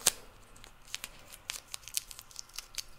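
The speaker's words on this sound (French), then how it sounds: "On va venir mettre un collant qu'on va retourner pour qu'il puisse coller des 2 côtés." Adhesive tape is pulled and torn in short crisp rips for a Christmas craft, about a dozen quick tearing bursts spread unevenly, close and fairly quiet, with no talking.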